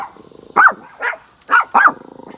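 Panda the dog barks four times in sharp, close, loud bursts with brief gaps, over a faint rhythmic background hum.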